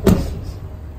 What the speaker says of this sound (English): let me shut down the bonnet so that we get to see the beauty of the car.